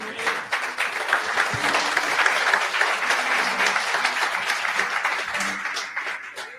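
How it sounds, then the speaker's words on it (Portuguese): A church congregation gives a sustained burst of applause during a sermon. The dense, even clapping holds steady for several seconds and fades slightly at the end. "Dê um aplauso a Jesus."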